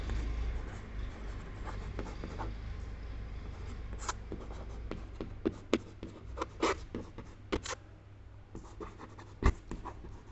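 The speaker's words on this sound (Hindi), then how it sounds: "मैं लिख देता हूं यहां पर" A pen or pencil writing by hand on a surface, with faint scratchy strokes and a few sharper taps, close by and quiet over a low steady background hum.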